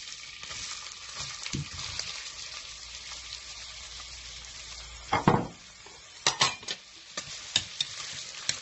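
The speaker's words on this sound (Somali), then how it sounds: "hadda waxaan ku xujinaa basashi." Onions frying in oil for Somali rice: a soft, continuous sizzle close by, broken by loud spoon scrapes and clinks against the pot, clustered near the end, with no talking.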